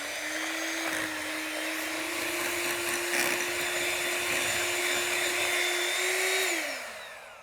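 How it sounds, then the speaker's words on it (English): An electric whisk beats eggs and vanilla for cake batter, a steady, close high motor whine that runs evenly for several seconds before spinning down at the end, with no talk. "I'm going to give this all a good whisk."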